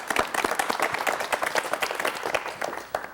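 A 1985 Korean television studio audience claps to welcome a guest onto the set, a modest crowd whose individual hand claps stay distinct in a lively, uneven patter.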